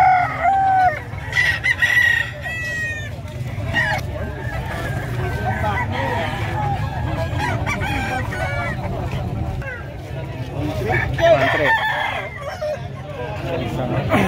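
Many chickens cluck and roosters crow repeatedly at a busy livestock market in San Carlos City, Pangasinan, with voices chattering in the background throughout.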